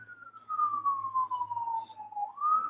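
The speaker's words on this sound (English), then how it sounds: "I swear I can still hear sirens even though you're muted" A single siren wails in a long, slowly falling tone, then starts rising again, moderately loud with faint background rumble.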